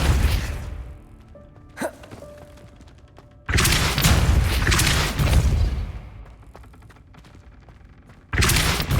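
The Depulso force spell being cast in Hogwarts Legacy, loud bursts of magical blast and rumbling impact noise in broad surges, with a quieter stretch between, close and powerful game effects.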